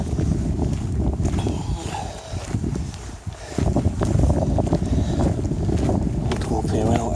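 Wind buffeting the microphone on a hilltop walk above Beeley village in the Peak District, gusty rumbling under close talking.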